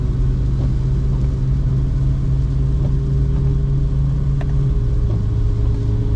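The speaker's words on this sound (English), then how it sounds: "These tyres make quite a lot of noise if you're wondering what the noise is." Steady low rumble of tyre road noise inside a BMW 135i with an N54 engine and 8HP45 gearbox conversion while driving, a continuous droning hum throughout with faint engine tone and no talking.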